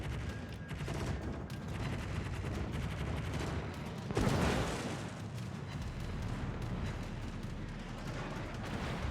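Anti-aircraft guns firing from a destroyer in a naval warfare video game, a dense, continuous rattle of rapid distant shots with a heavier blast midway, no talk.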